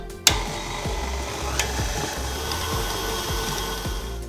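An electric mixer creaming butter and sugar in a bowl. It whirs steadily with a rhythmic knocking pulse about twice a second, after a sharp clack at the start.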